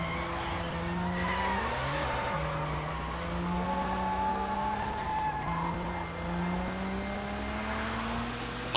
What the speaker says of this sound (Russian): Машину опять разбил.